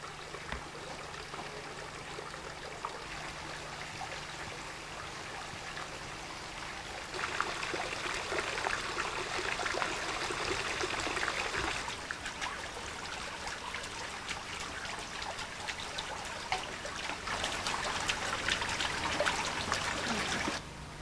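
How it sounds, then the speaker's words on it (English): A water feature at the Dundee Flower & Food Festival trickles and splashes steadily, a soft continuous babble that grows a little fuller partway through, with no voices. "the sound of the water had a very soothing effect"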